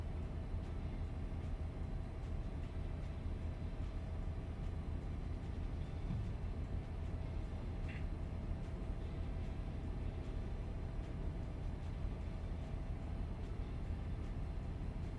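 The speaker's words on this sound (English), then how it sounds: "the differences I can hear at the moment is the truck sounds different" A truck drives in American Truck Simulator, a steady low engine drone and road rumble continuing evenly with no voices.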